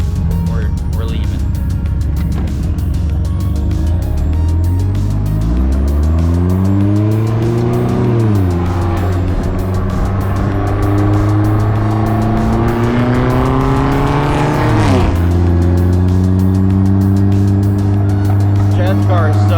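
A loud Vanderhall open three-wheeler roars off from a stop, its engine note climbing through several gear changes and rising again near the end, while voices talk over it.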